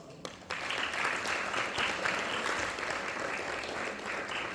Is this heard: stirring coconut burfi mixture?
no